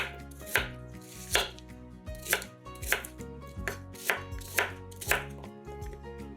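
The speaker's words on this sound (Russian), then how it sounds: "5 луковиц тоже нарезаем произвольными кусочками." A knife chops onions rapidly on a wooden board in quick, even strokes, about two per second, close and crisp with no talking.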